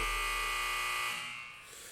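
A buzzer sound effect on a sports and life podcast gives one loud, harsh electronic tone that holds for about a second, then fades quickly, with no talk.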